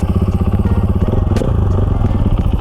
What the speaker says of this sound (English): With the start of a button, I can just start the bike without having to like kick it